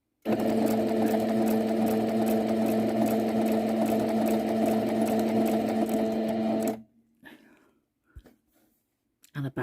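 A home sewing machine runs steadily and close-up as it stitches fabric bunting. The motor hums for about seven seconds, then stops, leaving a few faint handling clicks and rustles.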